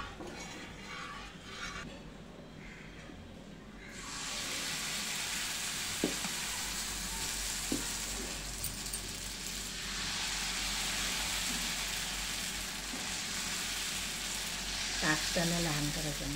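Oil sizzling on a hot tawa for dosa: a quiet start, then a sudden hiss that swells after a few seconds and stays steady and fairly loud, with occasional faint clinks of utensils.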